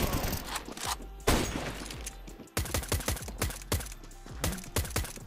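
Rapid gunfire in Counter-Strike 2 matchmaking: bursts of sharp, close shots in quick succession, broken by brief pauses, over a steady background of game noise.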